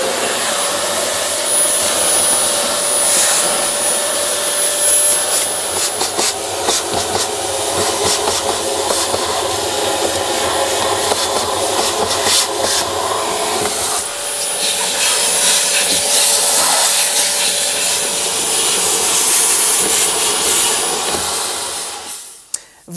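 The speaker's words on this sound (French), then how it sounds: "Donc je sors mon filtre et je vais aspirer l'intérieur." A vacuum cleaner sucks lint from inside a condenser tumble dryer, giving a loud, steady, close roar with a rubbing, scraping texture as the nozzle moves. The roar runs for about twenty seconds and then cuts off.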